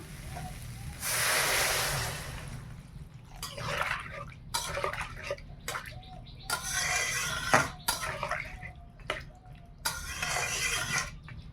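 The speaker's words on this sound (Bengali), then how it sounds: "এইবার আমি জল দিয়ে দেবো" Water is poured into a simmering Bengali curry in a village kitchen, coming in several separate splashing bursts of rushing liquid between quieter pauses, close and fairly loud.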